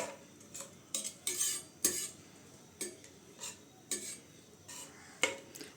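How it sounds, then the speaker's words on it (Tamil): A spoon stirs jeera (cumin) rice mixed with coriander leaves in a pot, making about a dozen close, irregular scraping and clinking strokes with short pauses and no talking. "சேர்த்து நல்லா கலந்து விட்டுக்கலாங்க."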